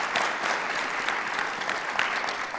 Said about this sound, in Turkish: onları alkışlayalım lütfen